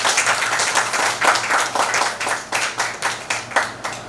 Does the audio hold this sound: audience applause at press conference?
yes